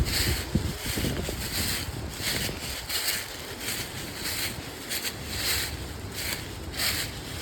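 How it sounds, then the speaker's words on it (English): Wind blowing through the trees of Shafer Woods in central Ohio, a steady broadband rush that swells and eases in gusts, with occasional rustles and light knocks close by. "With this wind,"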